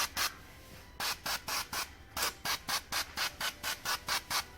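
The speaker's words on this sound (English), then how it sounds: "Gonna spray it good with olive oil." Extra virgin olive oil is pumped from a spray bottle onto bread dough in a fast, regular series of about fifteen short hissing squirts, close and fairly faint, with no talking.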